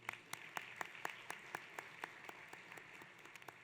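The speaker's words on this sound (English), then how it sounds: "Let's give them a round of applause again" Audience applause at the Senior Inspiration Awards held at Fantasy Springs Resort Casino, a sparse, faint round of distinct claps spaced fairly evenly, heard from a distance in a large hall.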